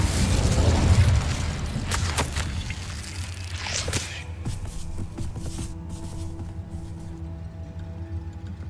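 A fire spell blast in Hogwarts Legacy bursts out loud and broad for the first second or two, then fades into a quieter hum of ambience with a few soft thuds.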